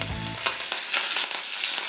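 Cumin seeds, a pinch of asafoetida and curry leaves hit hot oil for masala rice, giving a brief bubbling start and then a steady close crackling sizzle with sharp pops.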